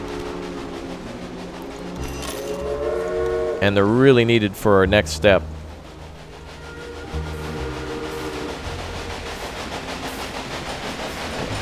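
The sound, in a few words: trains running in the video game Railway Empire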